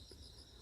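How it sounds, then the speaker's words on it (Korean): Crickets chirping in the early morning in a dahlia garden after sunrise, a steady high-pitched insect trill running continuously at low level throughout. "아니 해가 밝았는데도 귀뚜라미가 울어요"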